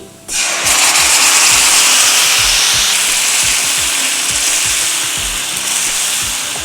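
Tomato puree for drumstick chutney hits a hot pan and erupts into a loud, sudden sizzle that settles into a steady close hiss, with scraping and stirring noises underneath.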